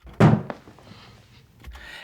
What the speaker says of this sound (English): The door is super dry now.